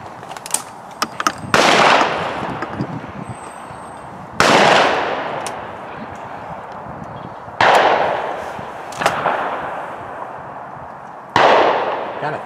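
Shotgun shots at sporting clays targets outdoors: four loud, sharp blasts spaced a few seconds apart, each trailing off into a long echoing decay, with faint clicks and handling noise between them.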